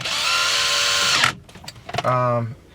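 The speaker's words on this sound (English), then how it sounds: "what I'm going to do, I'm going to put the two screws back in here" A cordless screw gun with a clutch drives screws back in while installing an iPhone/iPod AUX adapter in a 1998-2006 BMW 3 Series E46, with two close, loud whirring bursts, the first long and steady and the second shorter, and a brief clatter between them.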